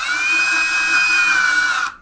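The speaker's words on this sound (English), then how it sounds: "first we're going to drill a hole in the bucket" Step drill boring a hole through a plastic bucket, a steady high-pitched motor whine held for about two seconds before cutting off abruptly, loud and close with no talk.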